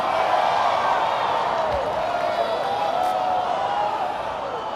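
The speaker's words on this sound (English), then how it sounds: "No, you guys aren't applauding loud enough." A large audience at a sales event applauding and cheering, a steady crowd roar with clapping and occasional whoops under which a voice carries faintly.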